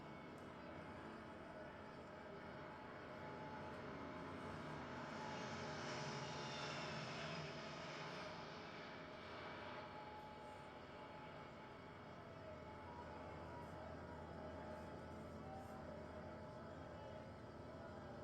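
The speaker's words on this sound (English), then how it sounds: "the second wave of transport aircraft, the Voyager, a modified civilian Airbus A330-200 passenger aircraft, and an A400M Atlas" Airliner-sized transport jets, an RAF Voyager (a modified Airbus A330-200) and an A400M Atlas turboprop, make a flypast at a royal birthday parade. A broad engine roar swells in the middle and slowly fades, with no talk over it.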